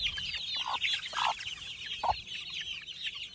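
Month-old gamefowl chicks cluck and chatter in short bursts, several soft calls close by over a quiet background.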